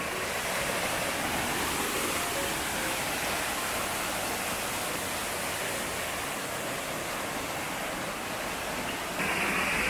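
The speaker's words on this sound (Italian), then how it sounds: "Il rumore dell'acqua mi fa capire quanto è profondo, quanto è alta questa cascata." Caccamo waterfall in the Savinello gorges in Abruzzo, a continuous loud rushing roar of falling water, steady and dense throughout with no talk.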